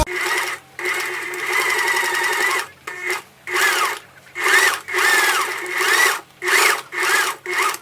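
Sewing machine running long gathering stitches through fabric, in repeated bursts of steady mechanical whirring separated by short pauses, close and fairly loud with no talking.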